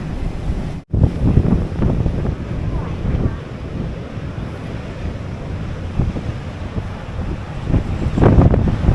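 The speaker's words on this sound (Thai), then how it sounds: "แล้วลมมันแรงด้วย โอ้โหลมไม่ก็แรงเลย" Strong wind gusts roaring across the microphone at a coastal lighthouse on the Great Ocean Road, a loud, steady rumbling blast with a brief dropout near the start and surges toward the end.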